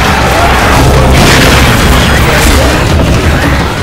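A pipe bomb explodes in a video game with a loud, sustained booming roar that fills the whole moment with heavy rumble and no pause, while voices may sit faintly underneath.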